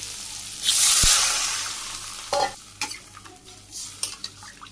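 A village-style Bangladeshi koi fish curry with potatoes bubbles and sizzles in a pot. A loud hiss swells briefly, then settles into faint simmering with a few sharp utensil clinks against the pot.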